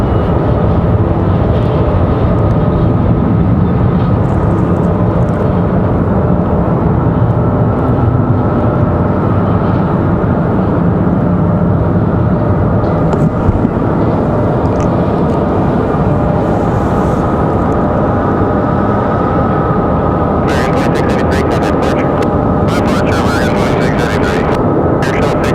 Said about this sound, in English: Got Mesa Airlines getting ready to head back to Houston in that United